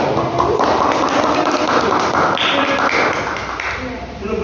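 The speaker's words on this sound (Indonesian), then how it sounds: "Oke, beri tepuk tangan." Classroom applause for a student group after their presentation: a dense, sustained patter of many hands clapping at close range, steady for several seconds before tapering at the end.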